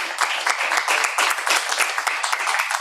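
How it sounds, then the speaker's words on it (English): Short burst of close audience clapping for an academic seminar speaker, individual claps distinct and uneven in a lively patter. "so let's give him a last round of applause."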